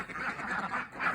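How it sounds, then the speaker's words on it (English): Ducks quack close by in a garden as they pass through a gate, a quick run of nasal calls overlapping over about a second. "Go on then, ducks."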